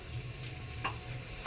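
Dates roasting in ghee in a pan over a low gas flame, a steady soft sizzle with a few brief scraping stirs, close by and with no talk.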